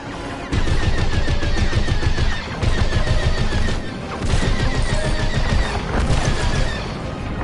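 Video-game turrets are shot down in loud, continuous bursts of automatic gunfire and booming blasts, with brief dips between volleys, and no talk is heard over it.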